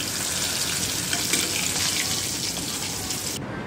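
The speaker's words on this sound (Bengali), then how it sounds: "এই তো ভেজে নিচ্ছি আবার হাই হিটেই আমি ভেজে নিচ্ছি আসলে, যাতে এটা কুড়মুড়ে ভাবটা থাকে মাংসটা" Chicken pieces deep-frying on high heat in hot oil, giving a steady, loud, dense crackling sizzle that runs unbroken and cuts off abruptly near the end.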